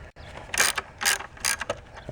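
A ratchet works loose bolts on a 2004 Mazda 6 engine, giving about three close bursts of rapid clicking with short pauses between them.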